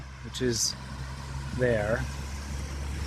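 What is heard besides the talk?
street traffic sounds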